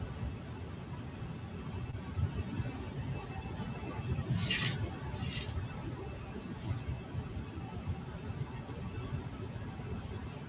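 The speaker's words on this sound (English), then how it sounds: "I'm going to burnish that one, make sure it's all stuck down." A stuck-down letter H is burnished by hand, giving two short, soft rubbing strokes close by over a low, steady background murmur.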